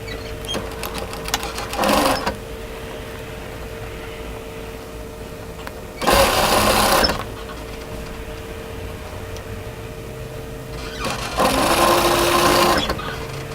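A sewing machine stitches along the overlocked hem of a knit tee dress, running in three short bursts near 2, 6–7 and 11–13 seconds, with quieter pauses and a steady hum between.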